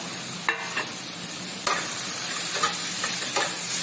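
Tomato being stirred into onions frying in a pan, for a fish curry, with a steady sizzle throughout and several distinct scraping stirs of the spoon at intervals.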